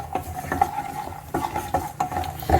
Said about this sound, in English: Nicely fry the cashews until they are brown.